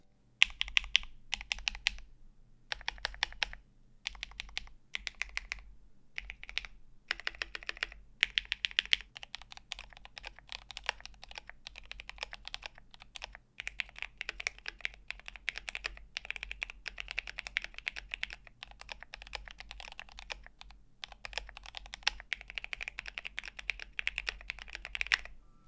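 Rapid typing on a modded GMMK Pro custom mechanical keyboard, dense clacky keystrokes in bursts with short pauses, close and clear with no talking.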